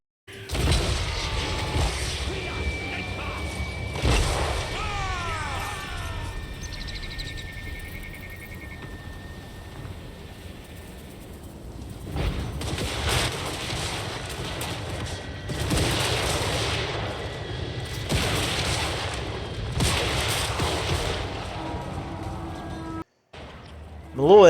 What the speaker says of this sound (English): Now our gunners are shooting.